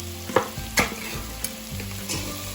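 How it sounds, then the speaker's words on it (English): Two 14-ounce cans of tomatoes go into a pot of Italian-style lentil soup, making a few soft wet plops and thuds, then stirring and a low sizzle, close up with no speech. "I'm going to add my tomatoes in."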